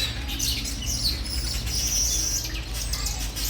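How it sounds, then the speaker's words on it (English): Birds chirp and sing continuously in the open in Senegal, several high calls overlapping above a steady low rumble of background noise. "nice birds singing"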